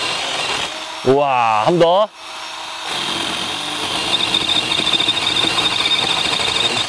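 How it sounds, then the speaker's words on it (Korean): A DeWalt DCMPS567N cordless pole saw cuts through a thick tree branch with a steady buzzing, rasping drone that runs under most of the clip. Near the start a person briefly exclaims and speaks over it. "자, 조금 더 굵은 것까지 잘라볼게요."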